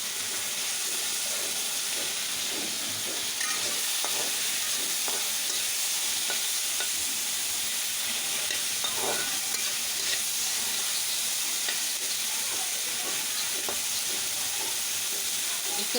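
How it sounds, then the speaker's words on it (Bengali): Shrimp coated in turmeric and salt frying in mustard oil in a wok, a steady bright hiss of sizzling oil with frequent small crackles and pops, close and continuous. "তারপরে কড়াইয়ের মধ্যে সরিষার তেল দিয়ে ভেজে নিচ্ছি"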